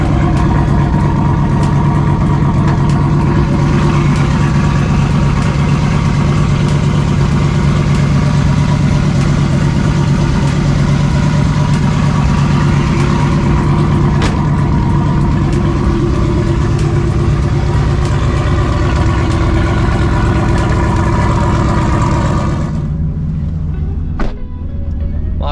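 A red turbocharged truck's engine runs steadily at idle for over twenty seconds, a loud, close, continuous low rumble with no voices, cutting off abruptly near the end.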